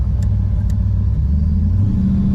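Fuel-injected engine of a 1987 Chevrolet Monte Carlo SS idling and revving with a deep, steady low rumble, loud and close, without talk.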